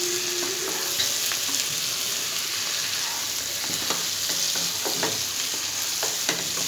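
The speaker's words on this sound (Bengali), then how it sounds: "হালকা হাতে নাড়তে হবে।" Soya chunks frying in a pan for soya chilli give a continuous, close sizzle, with the scrape and rustle of gentle stirring running through it.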